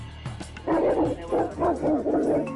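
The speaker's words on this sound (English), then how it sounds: "These are mastiffs. They're sniffing me." Several deep, heavy mastiff barks in quick bursts, close by, preceded by a few softer yips and whimpers.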